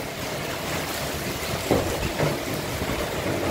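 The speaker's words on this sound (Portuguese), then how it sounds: "Vamos ouvir o som da chuva." Heavy rain driven by strong wind in Santana do Ipanema, Alagoas, a steady broadband roar with no one speaking and a couple of brief louder gusts or splashes partway through.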